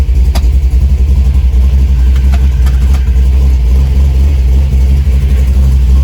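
A 1971 Chevrolet El Camino SS V8 with a new TH350 transmission and TCI torque converter runs in gear near idle, a steady loud low rumble throughout with faint clicks, no talking.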